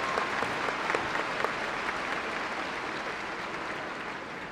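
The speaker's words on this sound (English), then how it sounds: "Please recognize her and the excellence she represents with your applause" Audience applause at a university commencement ceremony, a steady, moderately distant wash of many hands clapping with a few sharper claps standing out near the start.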